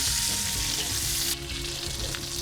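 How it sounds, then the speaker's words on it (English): Pork collar browning in a hot pan, a loud dense sizzle that drops slightly in intensity partway through but continues steadily, with no speech. "After browning all sides, I'm ready to remove the pork collar"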